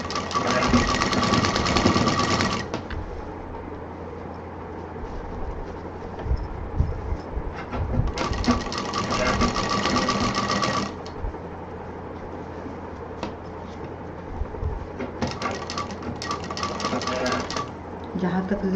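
A sewing machine stitches a zipper onto a tote bag in three loud, rapid, whirring bursts separated by pauses, with a person talking in between.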